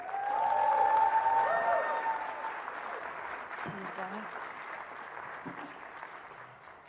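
Audience at a vegan festival applauding, a crowd's steady clapping that swells early and then holds at a moderate level before tapering off, with a bit of voice mixed in.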